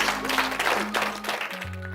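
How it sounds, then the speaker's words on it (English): A brief burst of clapping from a group at a school creative workshop, a dense patter of hands that fades out quickly. "give him a round of applause"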